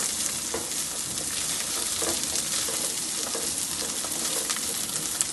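Oil sizzles steadily in a pan while Badshahi pulao is cooked, with a dense, continuous frying hiss and occasional soft stirring clicks, close and unbroken throughout with no talking.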